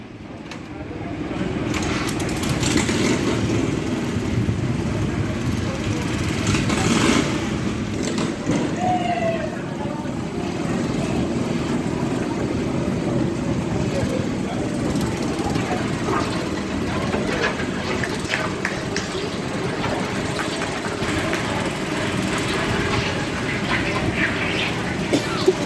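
An antique tractor engine runs at a tractor pull during an antique power show, a dense, steady rumble that holds at an even level for the whole stretch with no break.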